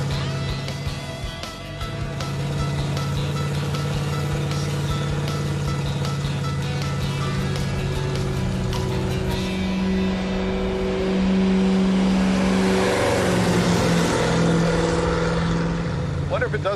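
A supercharged B-body Chevy Impala cruises on the road with a loud, steady engine drone from inside the car that swells in pitch as it accelerates, while people talk over it.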